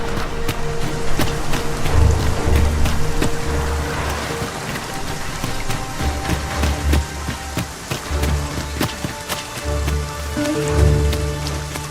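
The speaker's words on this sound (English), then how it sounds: "Must we be out in this rain?" Steady rain pattering on surfaces in the fantasy game Dragon's Dogma 2, a constant wet hiss broken by low rumbling swells and scattered drips, with no one speaking.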